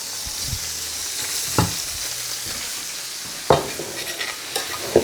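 Kale sizzles steadily in a hot frying pan alongside caramelized onions, a close hiss broken by a few clattering stirs of a utensil against the pan, with no voices.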